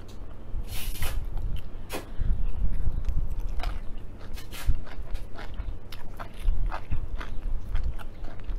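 Close, wet chewing and biting as someone eats rice, irregular crunchy mouth sounds repeating through the clip over low room rumble, with no talking.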